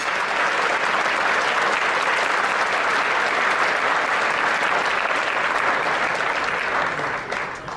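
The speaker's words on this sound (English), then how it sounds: "I would like to give Mike Nelson a great round of applause and welcome." A luncheon audience breaks into sustained, dense applause welcoming a speaker, loud and steady throughout with no talking, easing slightly right at the end.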